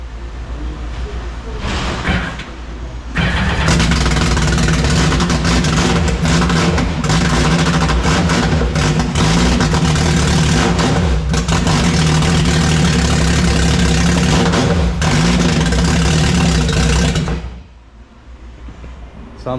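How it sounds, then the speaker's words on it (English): A turbocharged Sea-Doo jet ski engine cranks and catches, then roars loudly with steady revving for about fourteen seconds before cutting off to quiet. "I'm gonna start it up again and give it a couple revs."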